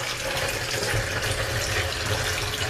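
Cool tap water gushes steadily into a bowl holding a tablespoon of salt, a close, continuous splashing fill with no talking.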